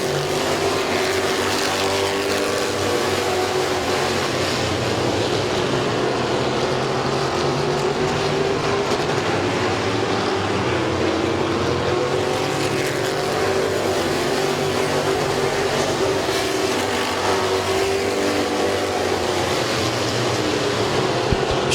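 Race cars circling the Midvale Speedway track drone loudly and continuously, engines roaring at a steady pitch that rises and falls slightly as the field passes, with no break.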